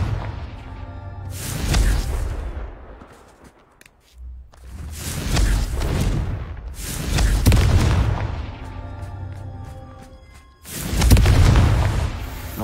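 Confringo spell blasts in the video game Hogwarts Legacy, four heavy booming explosions spaced a few seconds apart, each swelling loudly and rumbling out, with short quiet gaps between.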